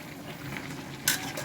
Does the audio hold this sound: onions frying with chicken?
yes